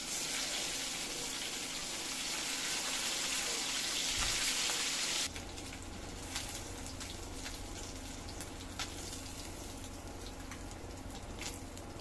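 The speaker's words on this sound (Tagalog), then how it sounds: "Iprito pa po natin itong natitira pa." Milkfish (bangus) frying in a pan gives off a continuous, loud hiss of hot oil with fine crackling throughout. Midway the sound drops slightly and steadies, and a few sharper pops stand out.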